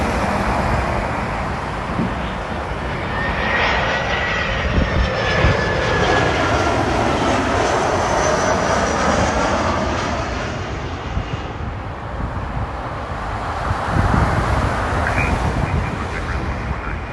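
A large jet airliner such as an A380, A350 or B777 landing at Toronto Pearson, a loud continuous engine roar with shifting whine and rumble throughout, heard close from the ground with faint talk underneath.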